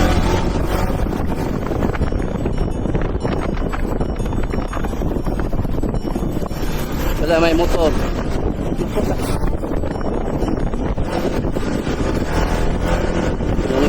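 Strong, steady wind buffets the microphone at a hilltop view deck, a continuous loud roar for the whole stretch, with people talking over it.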